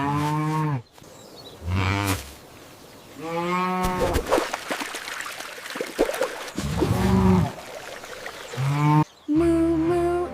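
Cartoon cows moo again and again in long, tonal calls while eating, with short pauses between the calls.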